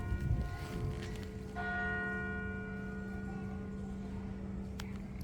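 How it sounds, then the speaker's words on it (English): The two o'clock church bell of St Mary's Rotherhithe rings in a sustained, resonant strike with a long humming decay, fairly close and loud, with no one talking. "now we catch the 2 o'clock bell"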